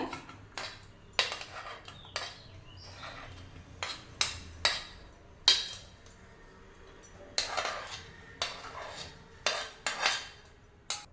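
Cooked pumpkin is mashed in a mixing bowl, with a utensil knocking and clinking sharply against the bowl in irregular bursts, alone and fairly quiet.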